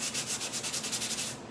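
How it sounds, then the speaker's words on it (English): Steady rhythmic sanding, a close, scratchy back-and-forth rasp of sandpaper on a painted, stenciled wooden buffet repeating about every tenth of a second, with no voices. "I'm starting to lose a little bit of that texture by sanding."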